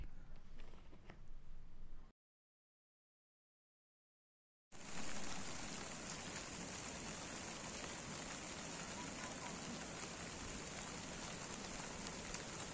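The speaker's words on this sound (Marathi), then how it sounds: "हे बघा तुम्ही पाऊस चालू झालाय" Heavy rain pours down at Kalu Waterfall, a dense, steady hiss that fills the scene after a brief stretch of quieter ambience and a moment of silence.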